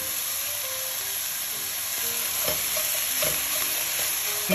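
Red, yellow and orange bell peppers sauté in a pan, giving a continuous even sizzle with a few soft stirring clicks and scrapes toward the middle.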